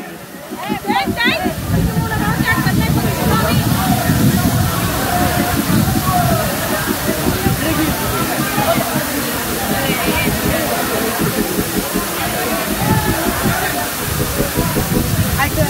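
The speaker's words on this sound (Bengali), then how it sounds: "কিছু করার নেই, এমন পানি ভেঙে আসতে হবে আসতে হলে" Legs slosh and splash through water while wading across a stream near a waterfall, with the steady rush of falling water all around and people talking over the noise throughout.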